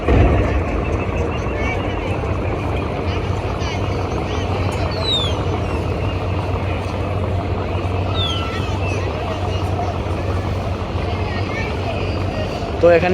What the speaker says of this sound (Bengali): লঞ্চটি কিন্তু বেশ চমৎকারভাবে ব্যাক গিয়ার দিচ্ছে